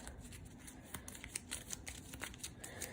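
A deck of Battlestar Galactica board game cards, the You Are a Cylon cards, being shuffled by hand at a table, soft irregular riffling snaps and slides, quiet and close, no talking.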